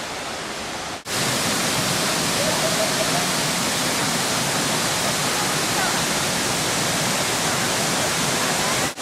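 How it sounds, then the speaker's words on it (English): Mok Fa waterfall in the jungle near Chiang Mai, a loud, steady broadband roar of falling water that begins abruptly after a brief quieter moment and continues evenly throughout. "Waterfall ahead."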